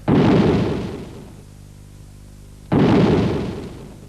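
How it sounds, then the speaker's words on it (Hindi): Two loud cannon shots boom a few seconds apart, each a sudden blast that decays into a long rumbling tail. "तुमने तोप के गोलों का आवाज सुना?"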